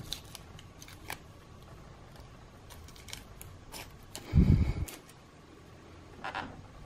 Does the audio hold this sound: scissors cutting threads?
yes